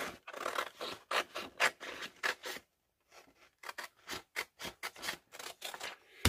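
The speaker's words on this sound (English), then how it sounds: "I'm going to cut this down" Scissors cutting paper for a craft, a close series of crisp rhythmic snips and rasping slices, pausing briefly before a quicker run of cuts.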